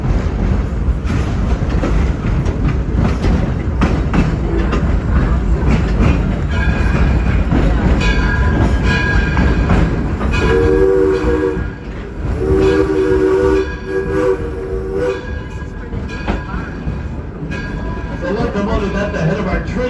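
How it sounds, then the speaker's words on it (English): A coal-fired steam train rumbles steadily along, with a whistle sounding in the middle and a person talking over the continuous mechanical din. "At the head of our train today is the Thomas A. Edison. It's a coal-fired steam engine"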